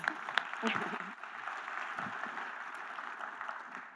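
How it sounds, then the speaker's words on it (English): Audience applause at the 2023 Edison Awards rises into a steady wash of clapping, slightly distant, with a few louder claps and a voice briefly over it at the start. "A round of applause, please."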